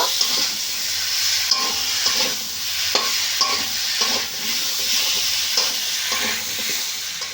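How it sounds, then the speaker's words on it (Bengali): Fried carrots and potatoes stirred in a sizzling pan for a village-style paneer dish, steady frying hiss with a spatula scraping in repeated strokes roughly every half second, close and without talk. "গাজর আর আলু আবার একটু বেশ ভালো করে নেড়ে নেব।"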